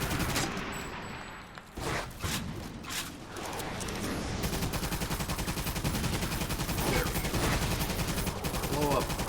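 Steady, fast bursts of gunfire roll through the battle in Toy Soldiers: Cold War on Xbox, with a few sharper shots near the start and a dense, rattling barrage filling most of the stretch.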